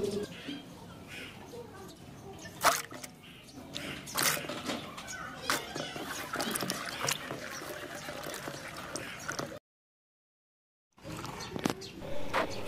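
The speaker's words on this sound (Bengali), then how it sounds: "তাই এখানে প্রথমে আমরা লঙ্কাগুলো ধুয়ে নিচ্ছি।" Green chillies are rubbed and rinsed by hand in clean water, with irregular close splashes and sloshing, sharp wet clicks, and a short pause before the washing resumes.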